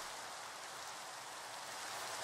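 Rain in the video game Minecraft, a steady, even hiss of falling water that is soft and continuous, with no voices.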